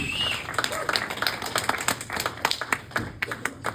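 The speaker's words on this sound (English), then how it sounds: "Give yourself another round of applause." A comedy club audience applauds with dense, busy clapping that stays steady throughout, a crowd sound close by with no talk over it.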